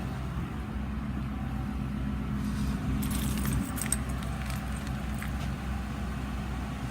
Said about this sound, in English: I guess I need to get my keys actually.